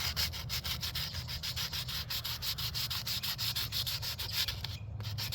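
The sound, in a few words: sanding an Estes model rocket with sandpaper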